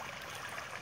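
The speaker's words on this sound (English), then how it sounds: "now we have lots of water passing very quickly" Water rushes quickly through a small pond stream, a steady, dense hiss and gurgle of flow heard close and continuous, with no talk over it.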